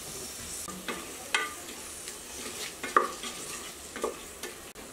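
Tomato sautés in a pan with soft, intermittent scraping and stirring over a faint background sizzle, close but quiet, with no voices.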